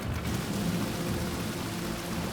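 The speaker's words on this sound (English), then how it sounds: "We got some rain moving behind us, so it's gonna bullseye us right now." Rain falls steadily at an airshow, a continuous dense hiss that holds at an even level throughout with no voices over it.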